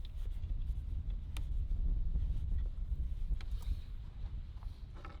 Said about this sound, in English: Get used to the wind.